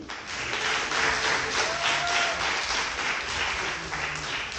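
A crowd applauds steadily at an outdoor song and dance festival in Ijevan, Armenia, a dense wash of clapping that holds at an even level throughout.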